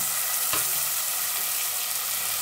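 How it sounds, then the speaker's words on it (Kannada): Tomatoes frying in hot oil with onion and curry leaves for a vegetable palya give a steady close sizzle, with a brief burst of louder spitting about halfway through as they hit the pan. "ಎಣ್ಣೆ ಕಾದಿದೆ, ಕರಿಬೇವು, ಈರುಳ್ಳಿ ಫ್ರೈ ಆಗಿದೆ, ಟೊಮೊಟೊ ಹಣ್ಣು"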